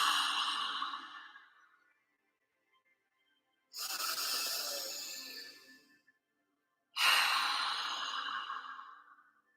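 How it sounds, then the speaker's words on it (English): Three long, slow breaths out, each a soft airy rush that swells and fades over a couple of seconds, separated by short silent pauses, close and alone in a quiet room during a guided breathing exercise. "In through the nose, if you have nasal access, or the mouth. And then that long exhale."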